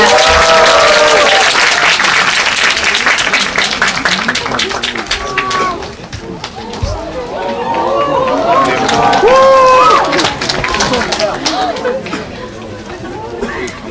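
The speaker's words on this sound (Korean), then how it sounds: "큰 박수 부탁드리겠습니다." A cinema audience gives loud, sustained applause as the director and actors come on stage for a greeting after a film screening, with crowd chatter mixed through the clapping.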